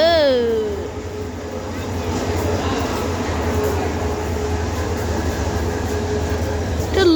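A local train at a railway station in Cumilla, with a horn blast sounding at the start and a steady rumble of rolling wagons continuing nearby, while people talk over it.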